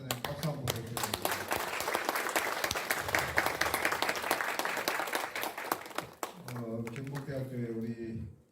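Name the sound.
audience applause at a lecture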